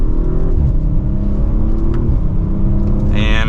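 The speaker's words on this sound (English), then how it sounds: "we will do one last turn and acceleration for today's video" A 2023 Audi RS5 Sportback accelerates hard after braking down to second gear, its loud, steady engine note rising in pitch, with a higher whine joining near the end.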